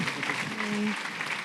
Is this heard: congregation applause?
yes